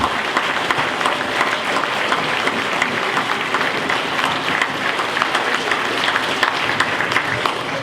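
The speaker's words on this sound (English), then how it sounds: "if we can give a good round of applause to the first team" Sustained applause from a large crowd at a football club presentation night, steady and dense clapping filling the room throughout without letting up.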